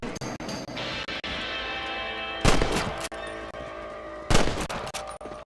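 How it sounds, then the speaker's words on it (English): Gunfire in the Western video game Red Dead Redemption, a rapid string of sharp shots over game background noise, with two louder, heavier blasts standing out near the middle and end. "Kill those little varmints. Guys, shoot!"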